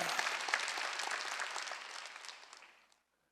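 A church congregation at a Wednesday worship service claps together in dense, steady applause, fairly distant and soft, which tapers off and stops near the end.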